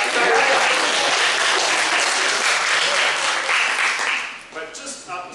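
Audience applause after a talk about the film Is Genesis History, a dense wash of many hands clapping, loud and sustained before thinning out near the end.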